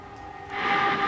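A train pulled by five locomotives passing, heard as a low engine rumble with a steady droning tone that swells louder toward the end of the short moment, at a moderate distance.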